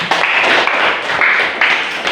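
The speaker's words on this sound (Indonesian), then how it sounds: "Tepuk tangan dulu, Kak" A classroom of students clapping together in a steady, dense burst of hand claps, loud and close, with no talk over it.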